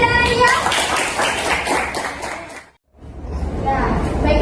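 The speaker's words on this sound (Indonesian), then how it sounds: "Berikan aplaus untuk Inggi dan Arya." Classroom applause for two presenting students, a burst of many children clapping and cheering, briefly dropping to silence before a second round of clapping and chatter rises again.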